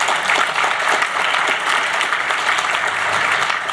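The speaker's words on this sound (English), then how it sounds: "round of applause" An audience at an awards luncheon gives a round of applause for freshmen, a continuous, full crowd of clapping that runs evenly throughout.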